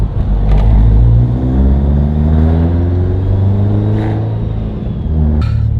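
A modified car engine pulls steadily as the car accelerates on the road, a loud, continuous low rumble with rising harmonics throughout and a few brief higher whooshes.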